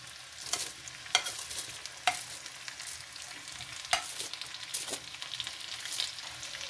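Chopped onion frying in a hot pan, a continuous sizzle broken by sharp scraping clicks as it is stirred at irregular intervals, close and fairly loud with no talking.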